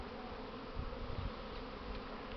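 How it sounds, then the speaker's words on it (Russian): Many Buckfast honeybees buzz continuously around hives on a warm, sunny day, a dense, steady drone of wings close by without any talking. "Вот сегодня у нас сильное тепло. Солнце светит. И вышли пчелы на облет."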